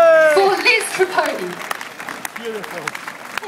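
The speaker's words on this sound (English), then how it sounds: "How about a round of applause," A festival crowd at an Italian street festa claps in a busy, moderately loud patter, fading somewhat after a strong start, with voices and music-like tones heard alongside.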